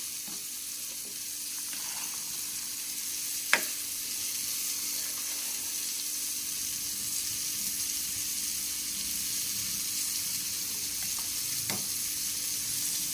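Bombil fish frying in a pan, a steady hiss of sizzling oil running throughout at moderate level, with a few faint clicks and taps of utensils and no talk.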